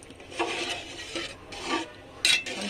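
Milk being stirred in a pot while cooking jaggery payesh, with repeated scraping, rubbing strokes of a utensil against the pot in a steady rhythm, close and moderately loud, no voices.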